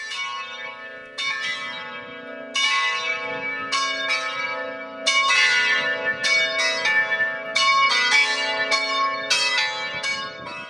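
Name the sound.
manual church carillon bells from the early 1950s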